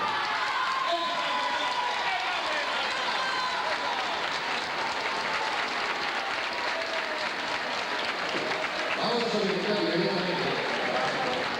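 An audience at a 1987 carnival party in a dance hall gives sustained applause, dense clapping that holds loud and steady throughout, with crowd noise mixed in.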